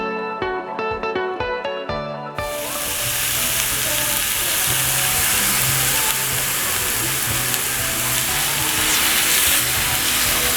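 Pork sizzling on a hot grill at an outdoor all-you-can-eat buffet restaurant, a loud steady frying hiss that rises abruptly after a few seconds of background music and keeps crackling throughout.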